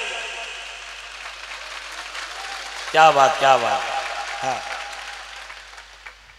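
An audience at a live comedy show claps in a burst that swells and then fades over a few seconds, while a voice exclaims over the applause.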